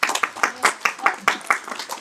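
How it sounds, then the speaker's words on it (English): Staff at a Lowery Brands quarterly company meeting clap to welcome new team members, a short burst of sharp, fairly close handclaps from a small group. "let's give them a round of applause"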